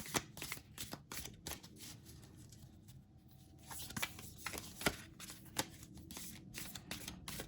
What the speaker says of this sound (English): these are a little harder to shuffle, so I'm going to manually pull